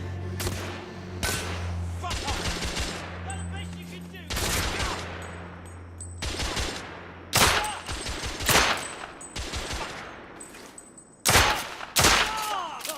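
Gunfire in The Order: 1886 video game crackles in loud, close volleys of sharp shots, with bursts clustered irregularly across the stretch and voices briefly heard between them.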